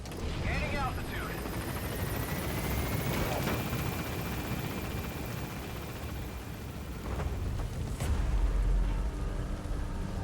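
Helicopter rotor and engine noise in Metal Gear Solid V: The Phantom Pain as the aircraft lifts off and gains altitude, a steady loud wash with a rising whine and a few sharp bangs near the end.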